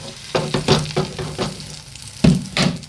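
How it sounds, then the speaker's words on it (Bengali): An egg frying in a pan gives a close, crackling sizzle. It comes in short, uneven bursts of spattering across a few seconds, with no talking. "হঠাৎ করে হচ্ছে ডিম ভাজা, এটা আমার ছেলের জন্য ডিমটা ভাজা হচ্ছে"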